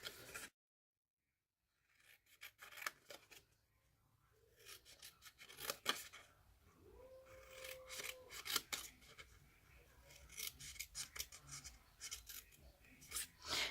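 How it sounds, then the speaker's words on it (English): Scissors snip through paper along score lines in a series of close, quiet crisp cuts with scattered rustling, after a short silent pause at the start. "we're going to cut up all those score lines we just made"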